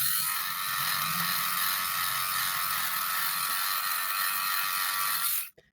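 An RZTK LR 3 electric clipper whirs steadily and close up as it cuts through matted pet fur, a continuous mechanical buzz with a faint ratcheting texture, holding even for several seconds before cutting off abruptly near the end.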